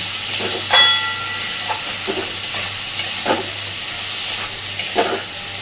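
Potatoes and eggplant fry in hot oil with a sprinkle of chili powder, giving a steady close sizzle broken by several scraping stirs of a spatula in the pan.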